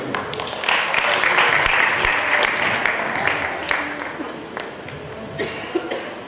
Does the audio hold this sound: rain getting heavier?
no